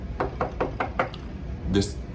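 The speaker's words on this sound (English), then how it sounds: "Why did that sound like somebody was knocking on the door?" Five quick, evenly spaced knocks like knuckles rapping on a door, close and distinct, followed by a brief voice.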